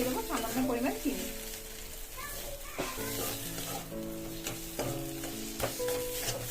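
Fried taro with sugar is stirred in an oiled pan, giving close sizzling and scraping over a steady bed of frying noise, with faint tonal background sounds and no clear speech.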